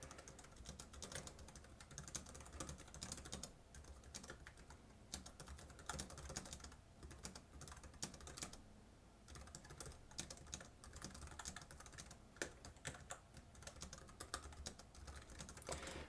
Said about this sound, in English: We'll do a quick typing test here